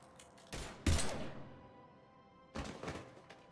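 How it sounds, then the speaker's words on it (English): Gunfire in the video game Mass Effect 3: a few heavy, broadband thudding bursts, a pair close together early on, then a quiet stretch before another cluster of shots near the end, fairly distant and subdued. "Now open fire!"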